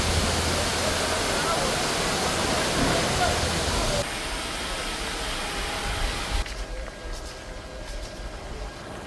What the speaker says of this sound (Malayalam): ഇത് നമ്മൾ മാർമല അരുവിയിലേക്ക് പോകുമ്പോൾ കാണുന്ന ഒരു വെള്ളച്ചാട്ടമാണ്